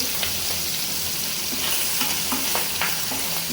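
Hilsa fish fries in hot oil in a pan with a constant crackling sizzle, punctuated by occasional sharper pops and light stirring clicks. It is close and alone, with no talk.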